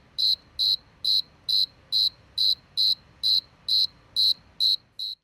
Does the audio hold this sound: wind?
no